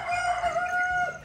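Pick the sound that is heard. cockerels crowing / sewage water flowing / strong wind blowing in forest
cockerels crowing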